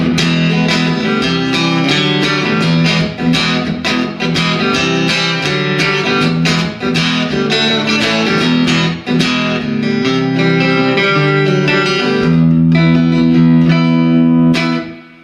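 A distorted electric guitar, a Les Paul SL, plays continuous chords and riffs for the whole stretch through its neck pickup, with a warm, thick tone, loud and up front.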